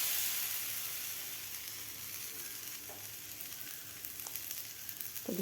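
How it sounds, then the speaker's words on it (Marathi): Colocasia leaves coated in batter fry crisp on a hot griddle, giving a steady, close sizzle and hiss throughout, with a few soft clinks near the end. "व्यवस्थित आपल्याला हे खरपूस होईपर्यंत आपल्याला हे तव्यावर भाजून घ्यायचे आहेत पानं"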